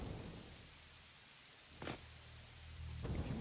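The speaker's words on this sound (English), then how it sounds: "now it's raining." Rain falling in the video game Satisfactory: a steady, faint hiss of rainfall with a soft rumble that swells briefly and again near the end, with no talking.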